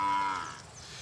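A cow gives one loud, close moo that is strongest at the start and then tapers off, heard alone without speech.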